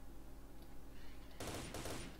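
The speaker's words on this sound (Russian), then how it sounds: "гроза очень хорошая пушка" Groza rifle fire in the shooter game STALKER, a quiet low background giving way to a sudden loud burst of rapid automatic shots over the final second.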